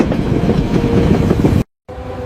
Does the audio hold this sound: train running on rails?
yes